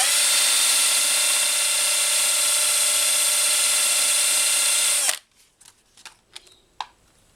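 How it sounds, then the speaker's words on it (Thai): A high, steady whine of an electric drill spinning the shaft of a Philips electric fan for about five seconds, then it stops, leaving a few light clicks and taps. "ใช้สว่านจับที่แกนครับ"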